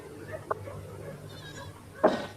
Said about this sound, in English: Alright, so we have the native goat herd here.